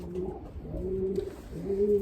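Eight to ten pigeons in a loft, coming through the moult, coo steadily with low, overlapping throaty calls, close by and continuous with no talking.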